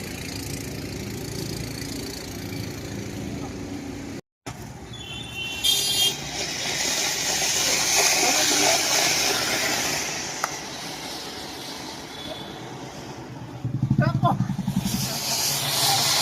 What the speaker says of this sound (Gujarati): બોટિંગમાં હવે આ રીતે બધા બોટિંગ કરતા આવે છે